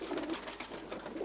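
Tippler pigeons cooing in a loft: soft, low, throaty coos repeating in a gentle rhythm, fairly close, set against a hissy indoor background.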